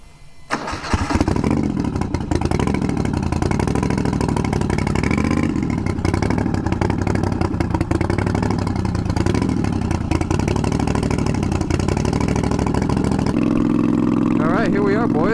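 Twin-turbo Moto Guzzi V50 III cafe racer motorcycle engine fires up and runs loud and steady for nearly the whole stretch, its note rising and falling with revs, then settling into a higher droning tone near the end.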